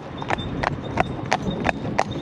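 Hooves of a calm six-year-old driving horse clip-clop in a steady, even rhythm, about three beats per second, close and fairly loud over a faint background hiss.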